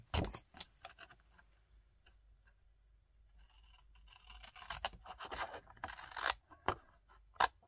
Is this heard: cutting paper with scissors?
yes